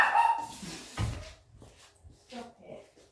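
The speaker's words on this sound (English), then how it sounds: "he thinks there's another dog there and he's barking" Max the dog barks at his own reflection in a window, a few loud sharp barks early on followed by softer yips and whimpers, with a person speaking nearby.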